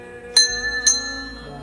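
Two sharp metallic strikes ring out from a bell at a Shiva temple on a hilltop, each with a bright, lingering tone, about half a second apart in a quiet setting.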